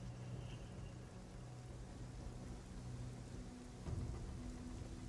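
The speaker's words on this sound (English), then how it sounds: "I imagine this is going to be a beautiful looking thing, but it's raining." Rain falls in the video game Ghost Recon Wildlands on a clifftop, a soft steady hiss with a faint low rumble that swells briefly near the end.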